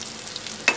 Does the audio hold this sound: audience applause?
no